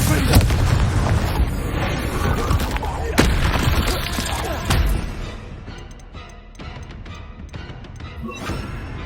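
Confringo fire-blast spell in Hogwarts Legacy detonates in loud booming blasts, several sharp explosive hits with crackling debris, then a quieter rumbling tail and a final crack.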